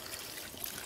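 Water poured into a pot of browned meat cooking over a wood fire, a steady soft trickle and splash with a broad hiss throughout, fairly close and unbroken.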